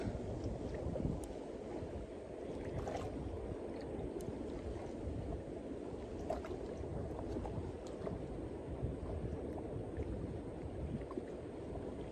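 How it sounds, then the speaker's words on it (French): Wind blows steadily outdoors in a low, continuous rumble with faint gusts and occasional small knocks, no one speaking. "Ah, y a le vent qui se lève un peu."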